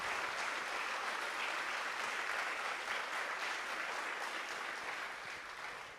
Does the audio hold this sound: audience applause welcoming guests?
yes